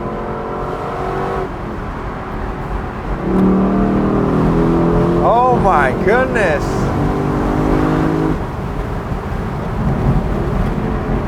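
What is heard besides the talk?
Lexus LC500 convertible engine revving with exhaust crackle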